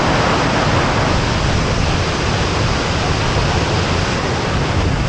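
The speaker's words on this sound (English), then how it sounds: "this is a waterfall." A waterfall in Vietnam pours with a loud, steady rushing roar that stays unbroken and close throughout.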